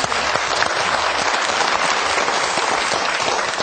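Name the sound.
applause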